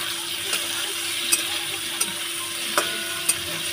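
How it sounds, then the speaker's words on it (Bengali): Homemade paneer fries in a pan, a constant bright hiss broken by a few sharp clicking pops spaced about a second apart, close and fairly loud with no voices. "পনিরগুলোকে ভেজে নেবো।"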